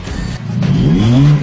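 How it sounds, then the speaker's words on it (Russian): A car revving hard through a straight-through exhaust with the bypass valve open, the engine note rising in a loud, continuous climb that fills the whole moment with no voices. "активировать прямоточный выхлоп, который в любой момент можно вернуть в штатный режим отвода отработанных газов через глушитель"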